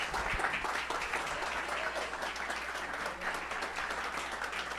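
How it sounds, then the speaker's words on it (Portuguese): A church congregation applauds steadily and fairly loudly throughout, a dense, even wash of clapping with no pauses. "Dê um aplauso a Jesus."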